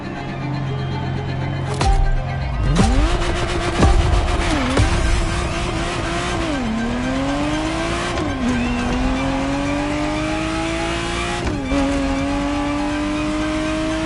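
A red Ferrari Testarossa engine revs up loud and close, climbing in repeated sweeping pulls with brief drops between gear changes, along with some tire squeal. The engine roar runs continuously for the whole stretch.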